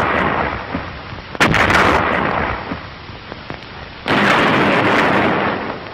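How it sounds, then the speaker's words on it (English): An artillery barrage in a war film: heavy booms and bursts rumble under a constant roar, with a sharp blast near the start and another powerful surge of explosions later on. "the infantry watched the smoke and bursts of the barrage"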